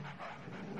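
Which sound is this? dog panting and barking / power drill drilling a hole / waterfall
dog panting and barking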